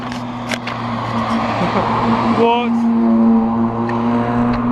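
Cars passing close to a runner on a road, a loud engine hum with a rising whine as one vehicle goes by, while the runner's voice carries over the traffic.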